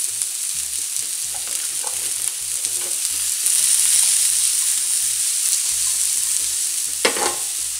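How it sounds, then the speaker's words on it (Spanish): Chopped mushroom stems tossed into a pan with browning garlic, frying with a constant bright sizzle punctuated by short scraping stirs of a utensil, close and loud with no speech. "Los ajos se me están poniendo doraditos. Pues el rabito de champiñón lo hemos picado y se lo echamos aquí."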